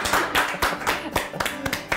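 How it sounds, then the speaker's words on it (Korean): Applause from a studio audience celebrating an airline's newly granted international and domestic air transport licences, a burst of overlapping hand claps at close range with voices mixed in. "박수 한번 칩시다."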